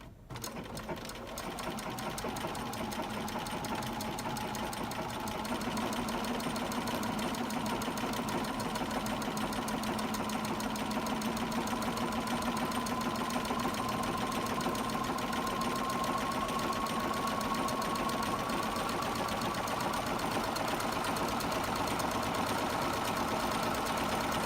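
A sewing machine stitches a quilt block in one steady, continuous run, a close, even whirring hum that holds level for about twenty-five seconds after a brief start.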